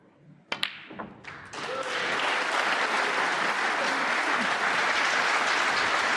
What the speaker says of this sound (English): applause for the century